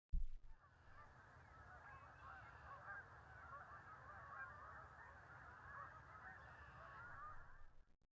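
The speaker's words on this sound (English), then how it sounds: "it turned out just to be a dark morph snow goose, also called a blue goose." A dark morph snow goose, the blue goose, calls with a dense chorus of honking from a flock on foggy water, steady and fairly faint throughout with no talking.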